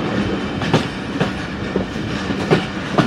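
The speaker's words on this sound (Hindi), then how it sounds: "ट्रेन हमारी अप्रोच बना रही है विशाल जंक्शन पे।" The Thal Express rolls toward a junction at night, a steady loud rumble of railcars with regular clickety-clack wheel beats repeating through the whole stretch.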